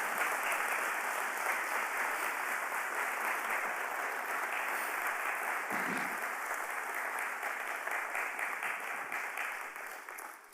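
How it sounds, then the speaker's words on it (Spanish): A church congregation applauding, a dense, even wash of many hands clapping that holds steady at moderate volume before easing slightly at the end, with no talking over it. "Den un fuerte aplauso"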